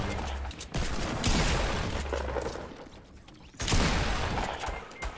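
Rapid gunfire bursts from the video game Fortnite in a squads match crackle in dense volleys, with a short lull before a loud renewed barrage near the end.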